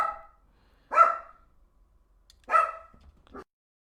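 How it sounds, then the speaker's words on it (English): A dog barks three times in an irregular rhythm, each bark short and fairly close, with near silence between and a smaller yip at the end, no talking. "Dog, please stop."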